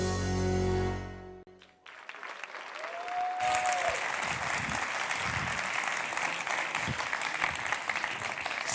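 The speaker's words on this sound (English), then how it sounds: "Lots of cheering going on." Audience at the European Youth Award Gala 2014 breaks into applause and cheering after a musical passage fades, building into loud, sustained clapping with whoops and a brief rising whistle.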